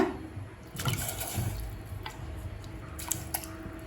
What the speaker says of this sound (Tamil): இப்போ இதில் 1/4 கிலோ சிக்கன் சேர்த்துக்கலாங்க.